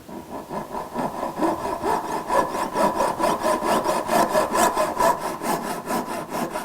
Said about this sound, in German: So, jetzt säge ich das auf, damit ich die Fassung zulöten kann.